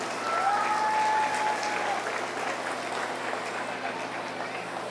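A crowd at a 4-H meat goat show applauds steadily for a reserve champion exhibitor, the clapping a continuous wash with a faint whistle-like tone rising briefly near the start.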